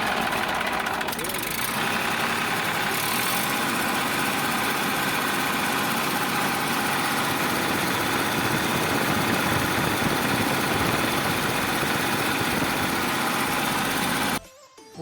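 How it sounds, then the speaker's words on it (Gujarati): A 2011 Massey Ferguson 241 DI tractor with a company-fitted engine idles close by, a loud, steady rumbling drone that holds without a break until it cuts out near the end, with someone talking over it. "2011 મેસી ફર્ગ્યુસન 241 DI ટ્રેક્ટર છે જે ભાઈને વેચવાનું છે।"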